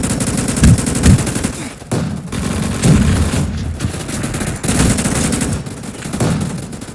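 Cannon and gun fire in the Roblox game Gunfight Arena, a loud, dense run of rapid shots and bursts that barely lets up across the whole stretch.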